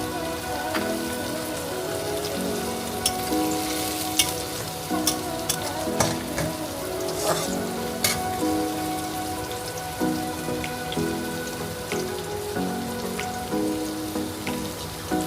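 Chopped tomato, about half a small one, is stirred and fried in a pan for a Bengali-style malai pabda fish dish, giving a steady close sizzle broken by repeated scraping stirs and occasional sharp pops.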